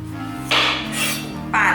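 A knife trims the ends off two washed zucchini on a cutting board, making two crisp, close chops about a second apart over soft background music.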